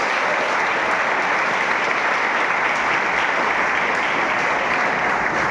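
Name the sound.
applause in church service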